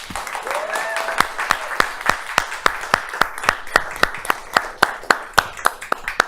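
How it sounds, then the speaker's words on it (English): An audience at a book-festival conversation event applauds steadily, with individual loud claps standing out as the clapping thins out over several seconds, while a voice speaks faintly underneath. "Can we give this woman a round of applause?"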